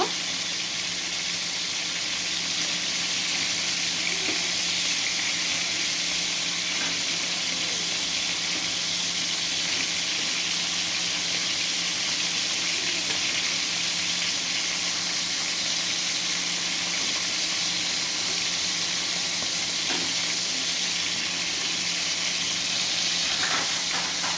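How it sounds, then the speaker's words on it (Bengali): Shrimp frying gently in oil, a steady soft sizzle and hiss running throughout with faint occasional clicks as the pieces are turned, no talk. "খুব হালকা করে ভাজতে হবে চিংড়ির এক পাশ হয়ে গেছে এবার আমরা চিংড়িগুলো উল্টিয়ে দিব"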